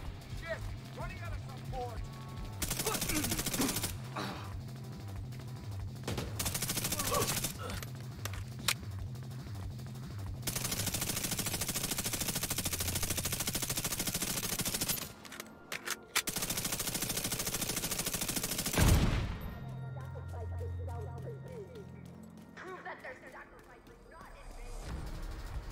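Submachine gun fire in The Division 2, long sustained automatic bursts separated by short pauses, loud and dense, with other game effects and someone talking over parts of it.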